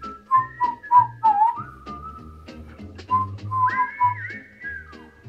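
A person whistles a bouncy, familiar sitcom theme tune in short clear notes with slides between them, alone and close, with a faint low thump beneath.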